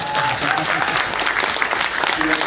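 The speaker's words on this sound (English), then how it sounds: "One quick round of applause for Clay BelvOIR." Audience applause at the WBCA Hall of Fame induction ceremony, a steady, dense round of clapping from a large crowd in a hall, sustained at even loudness throughout with a few faint voices mixed in.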